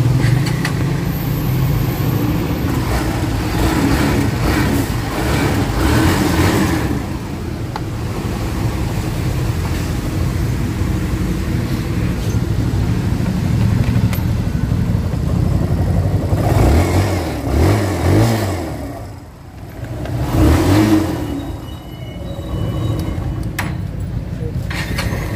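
A Kawasaki Barako 2 motorcycle engine with an adjusted carburetor runs steadily and loud up close, with a few swells in revs and a short dip before picking up again.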